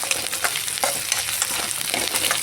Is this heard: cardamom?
yes